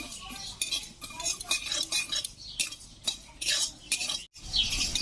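Spices frying in a pan for a star fruit pickle, a metal spoon scraping and clinking in repeated stirring strokes, close and crisp, with a brief pause near the end.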